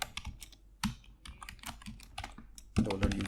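Code is typed on a computer keyboard in quick, close, crisp bursts of clattering keystrokes with short pauses, ending in a louder thump.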